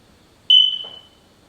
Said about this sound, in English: Somebody needs to change the battery in that smoke detector